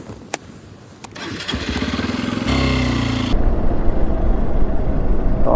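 A motorcycle engine cranks after a couple of sharp clicks, catches and settles into a steady, close idle with a rough, throbbing tone, loud and alone.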